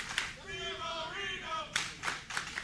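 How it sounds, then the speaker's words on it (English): A crowd applauds at an independent AAPW wrestling match: a broad, steady wash of clapping with sharper bursts near the end, while a commentator talks over the first half. "The crowd showing that appreciation that he deserves to be shown."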